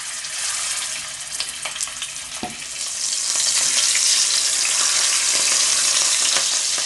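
Grouper fillet laid skin down into a generous amount of hot oil, a bright crackling sizzle that swells louder midway and holds steady, close up with no voices.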